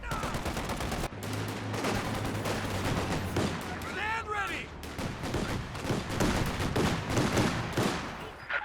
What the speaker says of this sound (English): Getting rifle fire from both angles